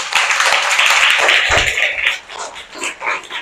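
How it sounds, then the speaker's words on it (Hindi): Schoolchildren in a government school classroom clap for a classmate, a close, fairly loud burst of uneven hand claps that fades into scattered softer claps and taps. "मानसी के लिए आप लोग ताली बजाइए।"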